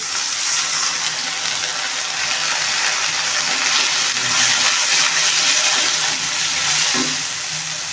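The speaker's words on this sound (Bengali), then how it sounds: "অল্প একটু পানি দিয়ে দিব" A little water added to a frying pan of onion, chili, ginger and garlic paste for a bean and potato curry, giving a loud, dense hiss and sputter that stays even throughout, close by, with no voices.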